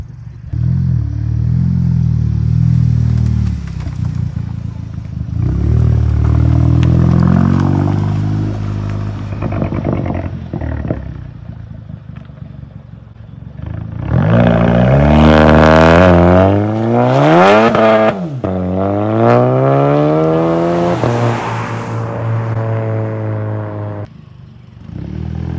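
A turbo-swapped VW MK6 GLI pulls from 30 to 90 mph, its exhaust droning through rising gear sweeps with sharp shift breaks and loud, close revving, with no talk.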